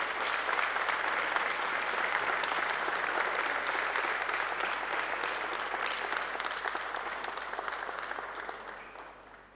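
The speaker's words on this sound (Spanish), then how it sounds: "Muchas gracias. Un aplauso." Audience applause at a local police award ceremony in Mogán honouring officers for long service: a full, dense burst of clapping that holds steady, then gradually thins and fades away at the end.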